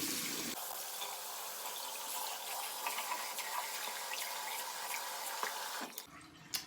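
Running tap water splashing steadily into a sink while someone rinses their mouth after brushing their teeth, a continuous close wash of water that cuts off near the end, leaving a few faint drips.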